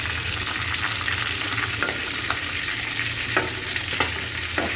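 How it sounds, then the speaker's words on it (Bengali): Food fries in a pan in a home kitchen, a steady close hiss of oil with occasional sharp pops and crackles, plus a low hum underneath and no talking. "এখন এই জিনিসটা ভেজে নিতেছি"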